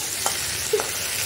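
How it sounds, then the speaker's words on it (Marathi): Hot oil tempering with curry leaves for dal sizzles steadily in the pan, a close frying hiss with a couple of brief stirring clicks and no talk. "आता मस्त फोडणी द्यायचं असं वरणाला"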